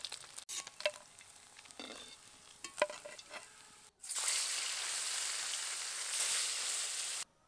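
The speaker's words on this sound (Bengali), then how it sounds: "শোল মাছ কিন্তু খুব বেশি কড়া করে ভাজবো না, কারণ এমনিতেই কিন্তু শক্ত হয়ে যায়। মাছগুলো ভেজে নিয়েছি" Snakehead fish frying in hot oil in a pan, steady loud sizzle hissing for several seconds after a stretch of quieter stirring and clinks.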